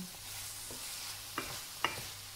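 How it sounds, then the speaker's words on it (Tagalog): Soft sizzling in a pan as vegetables for ginataang gulay are sautéed, with a few sharp utensil scrapes and clicks against the pan over a low frying hiss. "Igisa mo muna yung gulay"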